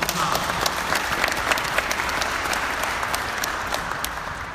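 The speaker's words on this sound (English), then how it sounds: "A round of applause for Taz." A crowd at a district basketball tournament applauds steadily for a former Oakland A's player, dense clapping filling the space with a few louder claps rising out of the wash and no talk over it.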